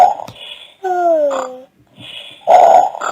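A voice imitates pigs snoring on a sofa: a few drawn-out, nasal snorts and rumbling breaths separated by short pauses, loud and close.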